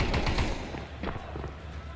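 Rapid bursts of automatic gunfire from a Counter-Strike match in an IEM Kraków 2026 playoff esports broadcast, dense and loud at first then easing, with commentary running underneath.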